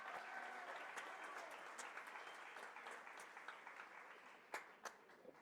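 Church congregation giving a strong round of applause, steady dense clapping throughout with a few louder individual claps near the end, moderately distant.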